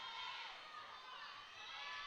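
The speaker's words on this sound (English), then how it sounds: "teammates cheering on the 3 athletes out on the mat" Teammates cheer for athletes on the mat at a Limestone versus Presbyterian college acrobatics and tumbling meet, a sustained crowd roar of shouts and whoops at steady moderate loudness with no break.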